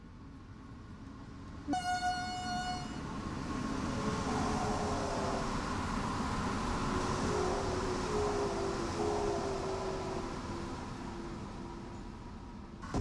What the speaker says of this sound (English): Where's the track gone so I can actually view the train as it drives by?